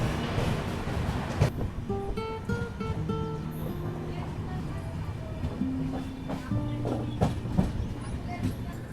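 A train departs New Amravati railway station in rural Maharashtra, a steady rumble and clatter of rail cars with tonal squealing wheels, continuous and fairly close, with faint voices in the background.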